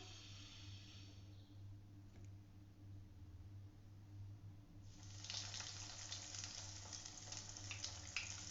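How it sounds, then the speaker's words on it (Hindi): Breadcrumb-coated potato balls drop into hot oil, and after a quiet stretch a loud, bright sizzle with crackling bursts up and keeps going steadily up close, with no speech. "अब मैं उसमें ब्रेड क्रम्स वाले जो मेरे आलू की बोल्स हैं वो डालती हूँ"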